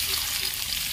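Onion dropped into hot oil in a village kitchen while cooking a rohu fish curry, a loud, dense, close sizzle that holds steady for the whole moment, no speech.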